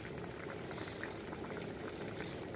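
Water pours steadily into a cooking pot holding salted meat ready for potatoes, giving a continuous close liquid rush with a bubbling, boiling-like texture and no talk.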